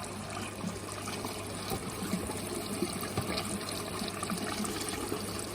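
An automatic spray-wash nozzle hisses steadily as it sprays water onto a bottom filter. The water makes a continuous, close rushing and splashing sound with no pauses.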